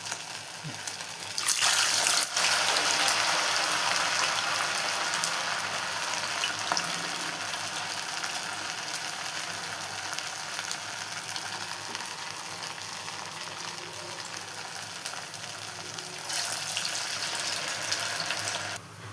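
Sago vadas deep-frying in hot oil, a dense, even bubbling hiss that holds steady for the whole stretch, with a louder burst near the start and again near the end; no one speaks.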